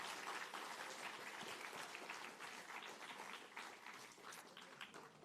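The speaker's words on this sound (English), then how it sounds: "let's give him a huge round of applause" Audience applause following an education keynote talk on National Indigenous Peoples Day, with dense, steady clapping through the whole stretch, fairly even in loudness and slightly distant.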